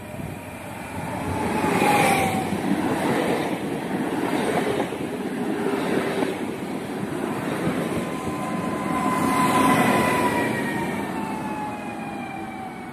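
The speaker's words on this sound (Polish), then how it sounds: "Wjeżdża pociąg Intercity Orzeszkowa relacji Białystok, Szklarska Poręba Górna." An Intercity train from Białystok to Szklarska Poręba Górna rolls into a station with a steady rumble and wheel noise, a horn or brake squeal rising and falling as it approaches.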